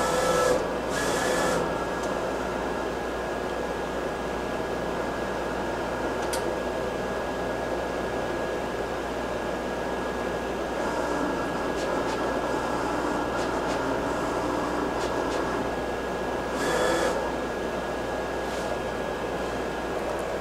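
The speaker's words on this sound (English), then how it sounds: "the printer will park the print head and then move the cutting head out to go and cut around each one of the individual boxes" Roland VS series printer-cutter cutting around printed boxes: a steady mechanical hum and whir of the machine with faint periodic clicks and short bursts of movement, running continuously with no talk.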